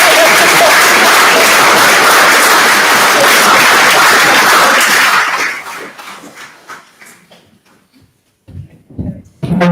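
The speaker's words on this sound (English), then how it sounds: "thought you were going to give one more round of applause." Loud, dense round of applause in a hall at a charity's annual general meeting, sustained for about five seconds before thinning into scattered claps and fading, with a few late claps at the end.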